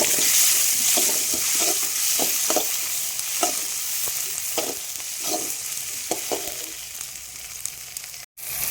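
Tomatoes go into a pan of frying onion and green chili and hiss, with rhythmic scraping stirs against the pan over a constant sizzle, followed by a brief clatter near the end.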